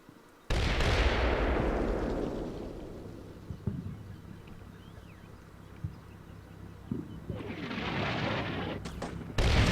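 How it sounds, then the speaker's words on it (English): A single sharp SVD sniper rifle crack in a military video game, hitting hard and then rolling away into a long, fading echo, followed by quieter distant rumble and a second whooshing swell near the end. "Oh, that was a sniper rifle. That was an SVD."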